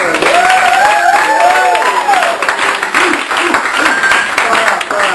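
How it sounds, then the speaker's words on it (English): A studio audience at a Hanukkah-themed cooking show applauds over several seconds of steady clapping, mixed with loud voices and whoops that stay on top of it throughout. "Let's hear some applause"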